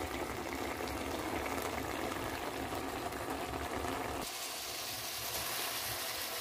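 Chicken with onion and tomato simmering in a covered pot on a stove, a steady bubbling hiss that shifts in tone partway through, with no voices.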